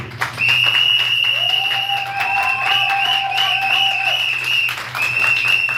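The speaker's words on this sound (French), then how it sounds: "je vais vous emmerder en vous demandant de l'applaudir encore très très fort s'il vous plaît" Audience at a press conference clapping for the artist, a loud, continuous burst of many hands, with sustained tonal sounds running through the applause.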